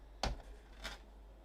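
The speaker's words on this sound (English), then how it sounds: "I'm just going to take my scissors" Scissors cutting paper for papercraft: two short crisp snips, close and quiet, about half a second apart.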